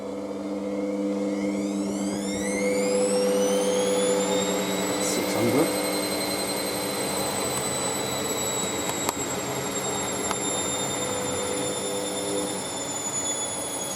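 An Ariston Margherita A1635 washing machine ramping up into its spin cycle, a whine steadily climbing in pitch then holding at a high steady speed, with faint knocks and clicks.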